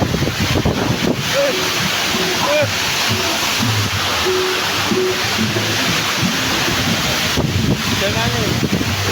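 Strong storm wind and rain roar steadily against a workshop, a loud continuous rush throughout, with a voice talking intermittently over it.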